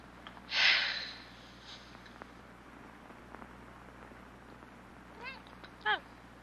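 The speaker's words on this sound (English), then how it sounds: "Hello, cat." A cat meows loudly once, then a few softer, short cries follow later, with faint background noise in between.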